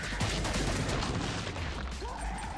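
Gunfire in Killing Floor 2, rapid shots in a steady barrage over a dense, rumbling mix of game noise.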